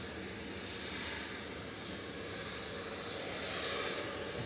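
A heavy Qatar jet airliner taxiing at Manchester Airport gives a steady, loud, broad engine roar, swelling slightly toward the end, with no talk.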